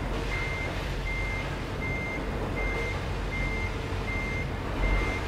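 A truck in Euro Truck Simulator 2 reverses with a steady series of evenly spaced backup beeps over a constant engine rumble.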